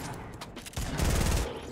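Rapid auto sniper rifle gunfire in Fortnite Battle Royale, a short cluster of sharp shots building into a dense burst over about a second, loud and close with some game noise around it.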